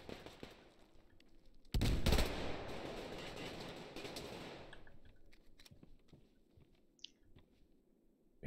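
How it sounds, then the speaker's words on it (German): Burst of gunfire in the Survarium shooter game, a loud dense volley with sharp onsets that fades into scattered shots and a lingering rumble. "Hör auf zu schießen"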